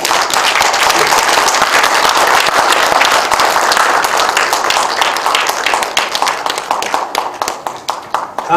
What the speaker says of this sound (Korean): 우리 여러분 지행 스님에게 심찬 경의의 박수 한번 부탁드립니다